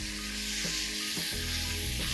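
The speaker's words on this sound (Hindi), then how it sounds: "30 सेकंड के लिए लगभग इसे हम भूनेंगे।" Spices and chopped tomatoes sizzle steadily while being roasted in a pan for Punjabi mutton curry, a continuous close frying hiss with occasional stirring scrapes and no talk.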